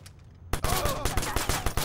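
Rapid Tommy gun fire in the video game Watch Dogs, with a dense run of loud, close shots in a fast steady rhythm that starts abruptly after a quiet half-second.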